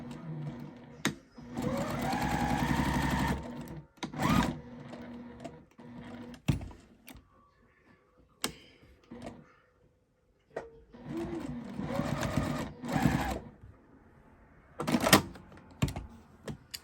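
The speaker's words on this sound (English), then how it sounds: "This thing does not shut down. Every now and then it does an extra stitch." A sewing machine stitches a tote bag in two close, loud bursts of rapid mechanical chatter, with clicks and handling noises between runs.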